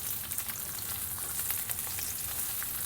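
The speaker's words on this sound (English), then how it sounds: "So these are just sauteing really nicely on the stove here." Vegetables sauteing in a pan on a stove crackle and sizzle steadily and close by, with no voices.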